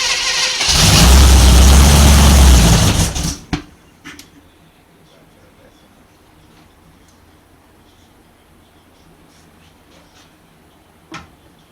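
A 1955 Chevrolet 265 V8 bursts into a loud, roaring start on its first fire, running hard for about three seconds before cutting out, leaving a quiet background with a few faint knocks.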